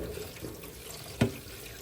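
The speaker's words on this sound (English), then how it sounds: "I'm gonna be throwing a little bit of the water" Water is tipped out of a cooking pot of soaking salted pollock, a soft running pour with one brief louder splash near the end.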